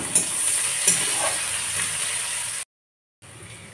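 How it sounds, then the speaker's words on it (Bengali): Sliced onions crackle and sizzle in hot oil in a wok, a steady bright hiss with a few louder pops near the start, breaking off into a short silence before the frying resumes. "তেল গরম হয়ে গেছে, এবার পেঁয়াজ দিয়ে দেবো।"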